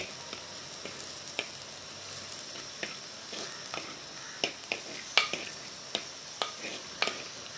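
Garlic and onion sautéing in a clay pot for a prawn curry, a soft frying hiss broken by irregular clicks and taps of a spoon stirring against the pot, close and fairly quiet.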